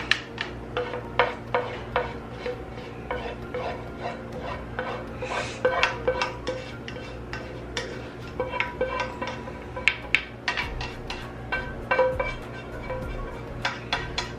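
A utensil stirs Alfredo sauce into chicken and shrimp in a pan, giving repeated scraping and clinking strokes against the metal at an irregular rhythm, close and fairly quiet, with no voices.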